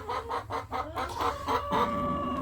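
Chickens cluck close by in a quick series of short calls, one drawn-out squawk near the end.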